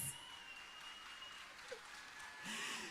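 Faint, distant applause rises from a festival crowd at the Silifke international music and folklore festival, a soft steady patter that swells slightly near the end.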